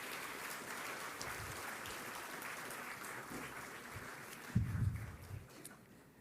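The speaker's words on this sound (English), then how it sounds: "Let's give him another round of applause." Audience applause at the Infosys Prize 2017 award ceremony, a steady wash of clapping across a large hall that swells briefly near the end before fading.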